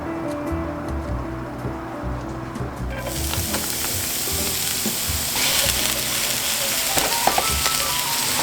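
Shallots and garlic fry in a couple tablespoons of oil in a pan for veggie pad thai, a quiet sizzle that swells into a loud, steady frying hiss partway through with scattered crackles.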